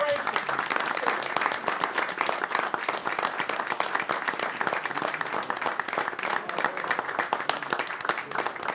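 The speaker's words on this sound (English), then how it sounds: "give these brave men a round of applause for what they did for our country" A standing room at a village board meeting applauds veterans, dense continuous clapping from many people that holds steady and moderately loud for the whole stretch.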